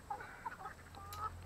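A few soft, brief clucks from chickens nearby, quiet and scattered over a faint background hum.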